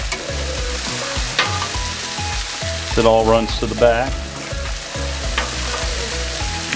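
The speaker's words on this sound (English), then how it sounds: "Oh, hear that sizzle." Steak sizzles steadily in oil on a hot Blackstone griddle with scraping and stirring, while someone speaks briefly over the frying.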